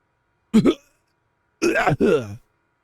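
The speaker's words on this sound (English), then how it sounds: "Carl coughs again." A character in a furry visual novel video game coughs: one short rough cough, a pause, then two raspy hacking bursts close up and fairly loud against silence.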